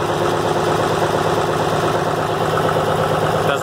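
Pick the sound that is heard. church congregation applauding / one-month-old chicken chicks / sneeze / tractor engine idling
tractor engine idling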